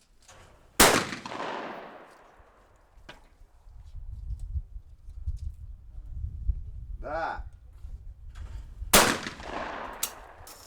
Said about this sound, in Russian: Стрельба ведется из гладкоствольных ружей 12-го калибра с использованием дробовых патронов.